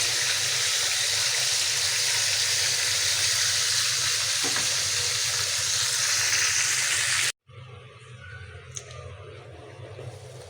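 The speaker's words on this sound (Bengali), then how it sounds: "কষাইতেছি পেঁয়াজ টমেটো" Onion and tomato sautéing in a pan for a fish and radish curry, a steady loud sizzle with stirring that cuts out abruptly, then gives way to faint clinks and softer frying.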